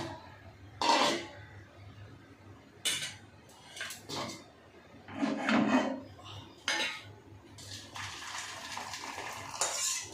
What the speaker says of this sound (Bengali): চলো গ্যাস অফ করে দিই, ডালটা ঢেলে নিই।